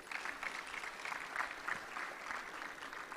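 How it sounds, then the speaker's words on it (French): Conference audience applauds as a minister of economy is introduced at a ministerial panel in Senegal, a steady wash of many hands clapping heard at a distance and fairly quiet. "Sous vos applaudissements, s'il vous plaît."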